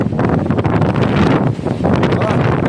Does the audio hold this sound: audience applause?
no